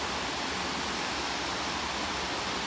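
Tatlıca waterfalls in Erfelek, Sinop, rush steadily with a dense, unbroken roar of falling water, constant and enveloping, with no voices.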